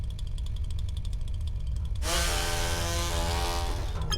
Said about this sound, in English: there is in here a chainsaw